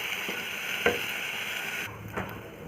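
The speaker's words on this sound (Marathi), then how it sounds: "हा तांदूळ पण तुपावरती छान परतून घ्यायचा आहे" Soaked rice is stirred through hot ghee in a pan for coconut rice, making a soft steady frying hiss broken by a couple of faint scrapes and taps of the spoon.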